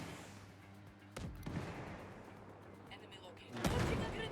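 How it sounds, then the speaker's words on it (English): Sniper rifle fire in Ghost Recon Breakpoint at night: two heavy shots with a steady low hum between them, the second louder and lingering. "Sniper and mouse gunner is gonna let one rip"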